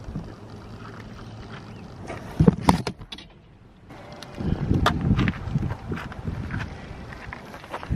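Gusty wind buffets outdoors in loud, rough surges, then drops away briefly before blowing strongly again, with occasional rustling and knocking sounds mixed in.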